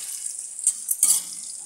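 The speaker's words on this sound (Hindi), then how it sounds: "अब ये देखिए कैरी भी भून के हो गया, 1 मिनट से ज़्यादा हो गया, इसको हम अच्छे से पहले मिला लेंगे थोड़ा।" Raw mango pieces roasting in a pan for a pickle, a soft steady sizzle with a few brief scraping stirs breaking through.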